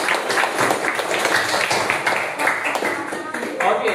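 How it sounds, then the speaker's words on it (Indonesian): Audience applause at an Indonesian anti-corruption counselor talk, a dense sustained wash of many hands clapping throughout, fairly loud and steady, with no clear voice on top. "Oke, berikan tepuk tangan dulu untuk ini."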